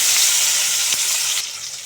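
Oil sizzling loudly in a pan on a stove, heating for frying red spinach, a dense close bright hiss that eases slightly toward the end, no voices.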